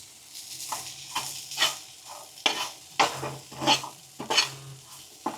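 Cheesy butter masala jinjara with chaat masala is stirred in a pan, Gujarati street-food style, with a spatula scraping in repeated rhythmic strokes over a soft sizzle.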